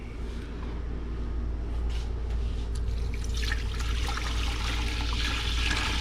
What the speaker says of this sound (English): We're going to start adding the water.